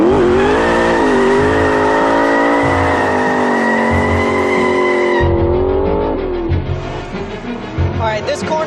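An M600 sports car is driven hard through a corner at high speed, its engine a loud, sustained, rising howl close to the microphone that drops sharply midway, then rumbles and revs again.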